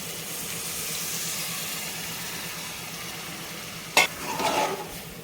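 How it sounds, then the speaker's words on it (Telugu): Water goes into a simmering prawn curry in a pan, which is then stirred: a steady sizzling hiss runs throughout, with a sharp scrape and a short burst of bubbling stirring near the end. "వాటర్ వేసిన తర్వాత మళ్ళీ ఒకసారి కర్రీని అంతా ఈ విధంగా కలుపుకొని"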